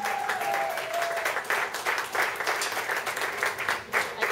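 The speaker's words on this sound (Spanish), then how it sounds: "un fuerte aplauso" A folk music peña audience claps warmly as a bass drum player is called to the stage at a season-closing show, dense and steady applause with some voices mixed in throughout.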